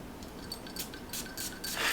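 An Azzaro Naughty Leather perfume spray bottle gives a few short, airy hissing spritzes in quick succession, close and fairly quiet.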